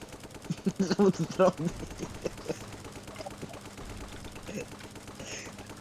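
Rapid bursts of vehicle turret gunfire in the Brick Rigs zombie mode, a clustered volley early on, then scattered sharper shots trailing off, with excited voices talking over the action.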